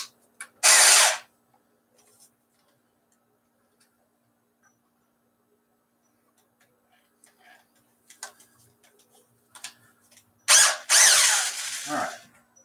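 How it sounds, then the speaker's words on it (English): A cheap single-speed power drill runs in two short, loud bursts at one fast speed, separated by a long quiet stretch with faint clicks and handling noises nearby. "Cheap drill doesn't have anything but fast."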